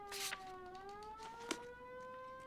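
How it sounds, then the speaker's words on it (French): A car siren in L.A. Noire wails, rising and falling steadily, fairly quiet and distant, with a couple of brief clicks over it. "C'est ma voiture qui fait le bruit de sirène là?"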